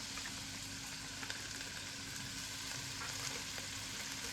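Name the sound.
prawn fried rice frying in a pan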